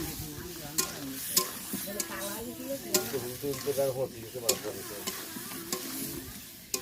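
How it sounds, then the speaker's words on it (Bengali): Potato and papaya curry sautéing and being stirred in a pan, with steady sizzling and scraping stirs running throughout at close range, underneath a layer of tonal background sound. "এদিকে আলু আর পেঁপে কষা তুলে দিয়েছি"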